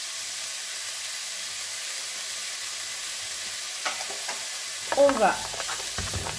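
Lean minced beef (5% fat) drops into a hot pan with onion and starts searing, a steady background hiss giving way to a sudden louder sizzle and stirring clatter near the end.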